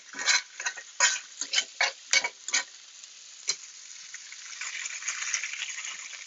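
Beef frying in oil in a nonstick pan: a run of quick scraping stir strokes gives way to a steady, soft sizzle that swells slightly toward the end, close and fairly quiet.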